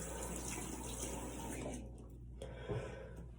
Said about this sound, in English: I'm gonna rinse that out of my hand.